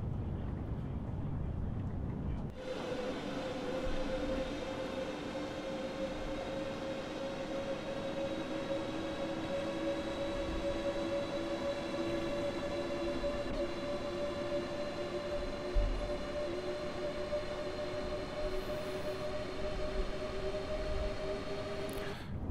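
A Class 395 ITX-Saemaeul electric train in Train Sim World 4 running at speed and accelerating, with a steady rising motor whine and continuous rail rumble heard alone throughout after the first few seconds.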